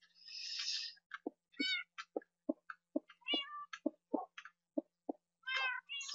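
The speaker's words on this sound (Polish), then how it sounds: "O, kotek jest. Pierwszy kot." Minecraft cats meow repeatedly in the game, giving short high mews and a few longer drawn-out calls spaced irregularly against near silence.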